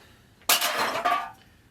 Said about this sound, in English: Glass bottle.